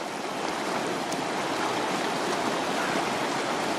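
The Green River rushes steadily below in Wyoming's Wind River Range, a dense, unbroken wash of flowing water heard close and alone with no voices.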